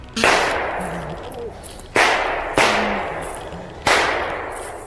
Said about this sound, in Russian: Стрельба в городе Припять.